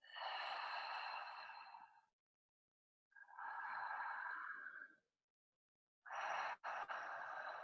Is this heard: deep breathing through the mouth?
yes